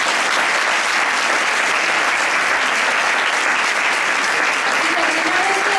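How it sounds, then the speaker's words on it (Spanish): A crowd at an awards ceremony for the Rosa del Sur 2022 prize in Leganés bursts into loud, sustained applause, a continuous dense clatter of many hands filling the whole stretch. "para los que pido un aplauso"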